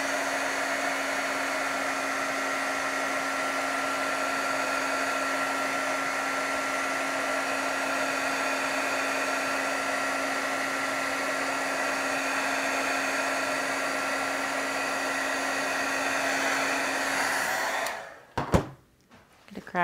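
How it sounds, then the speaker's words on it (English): A heat embossing tool blows hot air to dry a watercolor background, a steady loud electric whir with a constant hum that runs close for about seventeen seconds and then cuts off with a click. "I'm gonna hit this with my heat tool to speed up the drying"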